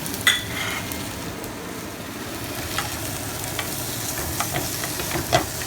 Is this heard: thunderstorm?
no